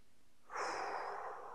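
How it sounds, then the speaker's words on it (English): An exaggerated breath during a hip stretch, one long, close, airy exhale that swells quickly and holds steady for about a second. "Breathing, of course, as you're hearing me exaggerate a little bit."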